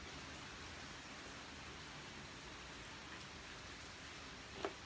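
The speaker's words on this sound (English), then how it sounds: "Oh man, that rain is horrid" Steady, faint rain falls outside as an even hiss with no breaks, heard from indoors and distant, with a tiny click near the end.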